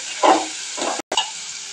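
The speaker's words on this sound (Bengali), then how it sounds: "সুন্দর করে নাড়াচাড়া করে নিচ্ছে, সুন্দর করে ভেজে নিচ্ছে।" Cinnamon, cardamom and bay leaf fry in hot oil and get stirred for a chicken bhuna. Loud, close sizzling swells with a few scraping strokes, and there is a brief dropout near the middle.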